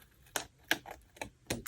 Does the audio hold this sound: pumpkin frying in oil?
no